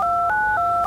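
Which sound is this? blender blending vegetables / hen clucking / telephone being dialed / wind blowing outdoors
telephone being dialed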